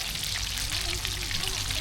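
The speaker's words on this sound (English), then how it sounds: "But they're frying up really nice." Hot oil sizzles and crackles steadily, a dense hiss of tiny pops from catfish jalapeño poppers frying close by.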